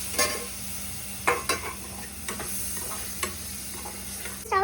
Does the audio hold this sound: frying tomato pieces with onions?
yes